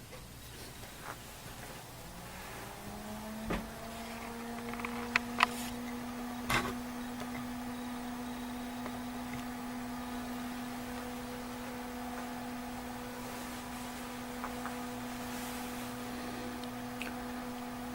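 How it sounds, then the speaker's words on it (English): A Tektronix TDS 460 four-channel oscilloscope powering up in a quiet room, with a steady hum that steps up, then scattered sharp clicks of relays chattering at irregular intervals. "I hear some chattering relays"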